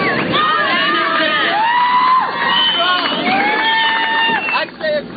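A crowd cheers and shouts at an outdoor BMX contest on the beach, whoops and yells rising and falling in overlapping waves, with voices calling out over the noise and a brief dip near the end.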